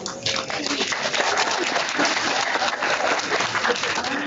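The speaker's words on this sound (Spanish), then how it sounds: "Uma salva de palmas." Audience applause at an international One Health symposium, a steady dense wash of clapping filling the whole stretch, with some talk mixed in.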